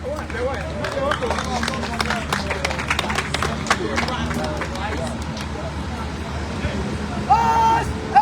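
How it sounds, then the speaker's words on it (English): A crowd at a camporee parade applauds throughout, steady clapping mixed with hubbub and talk, ending with a louder burst near the close. "Round of applause for them"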